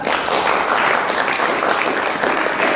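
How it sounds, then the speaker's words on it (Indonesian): A group of students bursts into loud, steady applause during a group guidance session on cyberbullying, dense and close for the whole stretch. "Tepuk tangan dulu, Kak"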